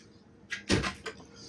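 A cabin door on a 2007 Meridian 391 Sedan boat opens or closes with a single thud and a brief rattle and latch click, heard close in a quiet interior with no talking.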